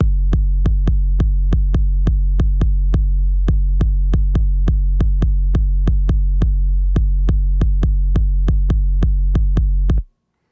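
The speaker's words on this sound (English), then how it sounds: "Next, we've got everyone's favorite 808 kick that sounds like this." A Roland 808 kick drum pounds out a steady electro pattern, each boomy low thump ringing with a long sustained tail. The hits repeat rhythmically for about ten seconds, loud and alone, then stop abruptly.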